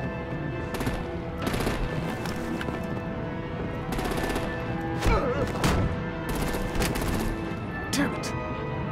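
Sustained automatic gunfire and artillery bursts from Batman: The Enemy Within, loud and continuous with sharp thuds, under a dense game battle soundtrack with people shouting.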